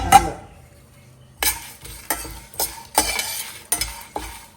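Curry leaves and Chettinad masala dry roasting in a pan, a series of distinct spoon scrapes and clinks against the metal at an uneven rhythm after a quiet opening, with light crackle underneath.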